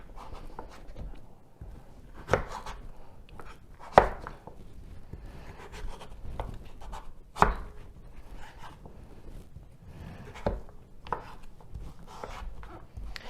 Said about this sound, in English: you're just gonna cut this into bite-sized pieces